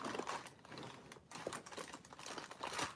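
Tear and tape being handled for layered cardstock in cardmaking, giving a run of dry crinkling, ticking and light peeling noises that come in short, close bursts with no talking.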